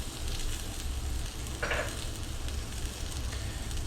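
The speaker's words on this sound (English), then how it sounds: "what you're doing is you're just letting it sweat over the onions" Butter melting with onions in a breakfast fajita pan gives a steady, close sizzle and crackle that runs the whole time, with no talk over it.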